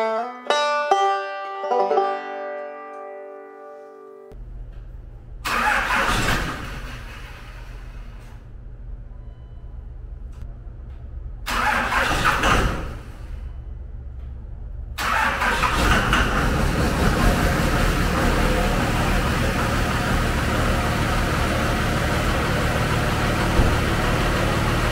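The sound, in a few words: Dodge Cummins diesel truck engine starting in the cold and idling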